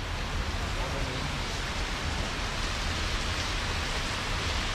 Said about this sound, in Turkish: Yağmur bir türlü dinmedi, şiddetini arttırdı falan.